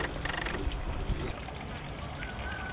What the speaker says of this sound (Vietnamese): chủ trang trại đã cho xả nước thải chăn nuôi của hàng trăm con gia súc trực tiếp ra suối gần trang trại